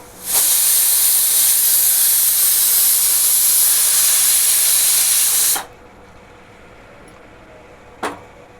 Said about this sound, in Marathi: आता आपण ते पिठामध्ये ओतणार.